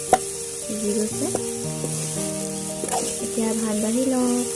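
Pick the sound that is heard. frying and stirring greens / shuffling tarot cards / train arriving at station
frying and stirring greens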